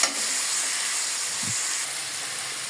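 Potatoes and washed broken rice frying in a pan give a steady hissing sizzle throughout, moderately loud and close, with a brief low knock midway.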